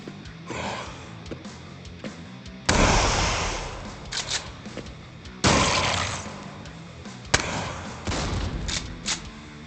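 An enemy grenadier attacks in the video game Jupiter Hell, with loud blasts and shattering bursts that hit in separate waves between quieter game sounds. No one speaks.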